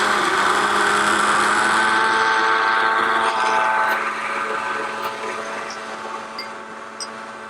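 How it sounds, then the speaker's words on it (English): A blender whirs loudly at a steady pitch, its motor droning continuously and easing slightly softer toward the end. "I'm going to blend this for just a minute until it's a deep purple"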